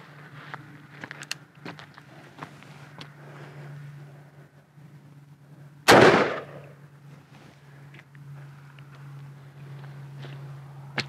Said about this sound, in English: So next up, we'll shoot with a 44 mag. It's a 270 grain. This is the Raging Hunter.